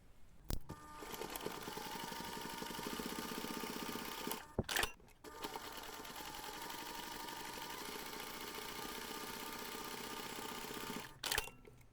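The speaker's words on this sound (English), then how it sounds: "Now you're going to take this to the machine, top stitch along the finished seam" A home sewing machine top stitches along the finished seam of a small fabric snap pouch, running in two long steady bursts with brief pauses between, a close, even mechanical whir.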